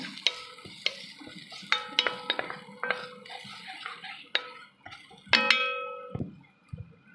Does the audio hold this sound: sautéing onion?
yes